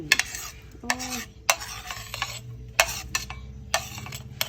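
A spoon stirs chilies and sliced garlic in fish sauce, making repeated close scraping and clinking strokes in an uneven rhythm, with faint liquid sloshing beneath.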